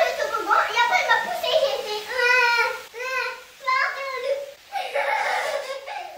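Young children's voices cry and whine in high-pitched bursts outdoors, playful fake crying mixed with chatter, at moderate distance.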